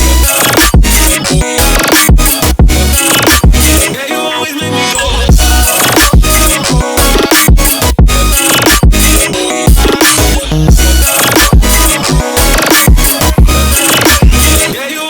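Dense Dariacore EDM drop built from a sub bass, lead and saw chords with extra sound design layers, loud and busy with rapid chopped hits and stuttering edits throughout, no voices.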